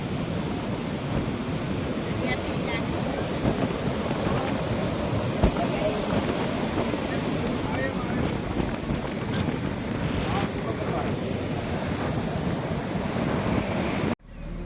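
Sea waves surge onto the beach at Somnath, a constant loud roar of surf mixed with wind buffeting the microphone, steady throughout and cutting off abruptly at the end, with faint crowd voices underneath.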